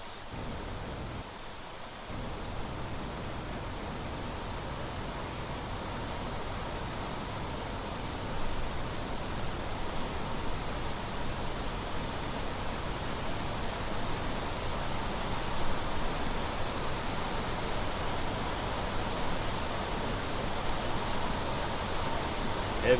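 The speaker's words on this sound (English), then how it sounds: "And it's raining again." Heavy rain pours in the video game Planet Crafter as a continuous, even hiss. It swells slightly partway through and keeps going with no voices over it.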